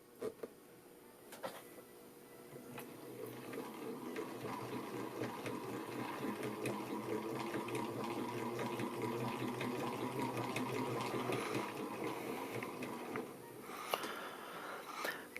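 A c1910 New National treadle-era sewing machine made by New Home runs its bobbin winder with a soft, continuous mechanical whir that builds steadily and stops near the end, faint and close.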